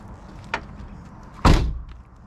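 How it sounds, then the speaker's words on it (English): A door on a Honda EK Civic is shut: a light click first, then a solid, loud thunk as it closes, with a short decaying rumble afterward. "let's just close up that door and see if that's going to be alright"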